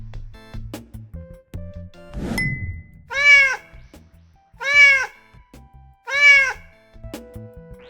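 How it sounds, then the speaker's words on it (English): A cat meows three times in evenly spaced, clear, close calls, following a brief clatter, with light music underneath. "It's a cat, cute and cuddly,"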